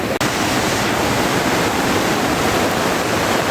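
A flooded river in Konkan rushes after heavy monsoon rain, a dense, continuous roar of churning water that is loud and close, with no voices.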